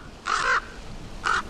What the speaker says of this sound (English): a raven, cawing loudly and beating its wings, flapped and flopped onto the deck of the sand ship